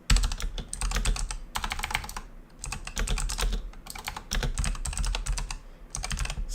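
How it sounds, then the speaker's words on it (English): Rapid keystrokes on a computer keyboard while a Dungeons and Dragons review is being written, coming in close, steady bursts of fast typing with brief pauses between them. "Typing too fast."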